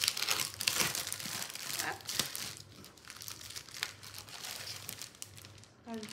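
Paper sheets rustle and crinkle up close in steady handling, with soft flicks and crumples over a few seconds, no talking.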